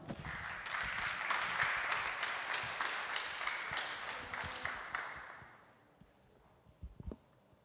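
Audience applauding presenters at a startup programme demo day, a full round of many hands clapping that fades out over several seconds, leaving a few scattered knocks and room noise.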